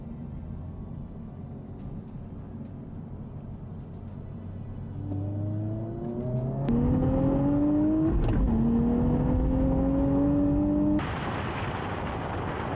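Engines of a 2023 Honda Civic Type R, Nissan Z and Hyundai Elantra N roar together in a roll race, a steady rumble swelling into hard acceleration with rising revs and distinct gear shifts, loud and close.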